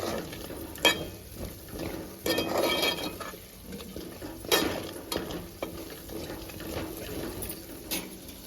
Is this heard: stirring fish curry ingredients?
yes